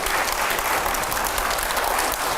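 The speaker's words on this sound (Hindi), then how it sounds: "जोरदार तालियां" A studio audience at a televised debate breaks into steady, vigorous clapping, a dense wash of applause holding evenly throughout.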